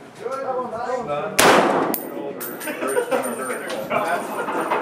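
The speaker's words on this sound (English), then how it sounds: "That's the most powerful gun you'll be shooting." A single loud, sharp gunshot at an outdoor shooting range in Arizona, fired between stretches of close conversation, with a brief ringing tail after the blast.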